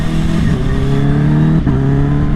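Tuned Kawasaki Ninja H2 motorcycle engine pulls hard under acceleration, a loud, steady, close-up drone with a rising pitch and a brief dip mid-run, as if at a gear change, with no talk over it.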